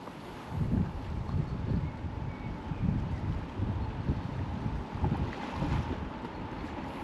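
A boat on the Salaca river during salmon fishing, with water lapping and sloshing in low uneven pulses and heavy wind buffeting the microphone, close and fairly loud, no speech.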